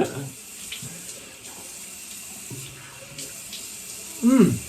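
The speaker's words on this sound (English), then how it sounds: "turn on the water" Water running from a bathroom sink tap during face washing, a steady broadband wash under the whole clip with a louder splash near the end.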